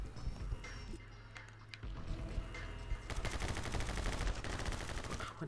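Rapid bursts of gunfire from the video game My Friend Pedro, set in a sewer level, come as dense, continuous shooting under game music with no talk.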